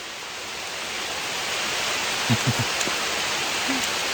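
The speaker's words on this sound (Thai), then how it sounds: "ฝนกำลังตก" Steady rain falls in a continuous, even hiss, with a few faint low knocks partway through.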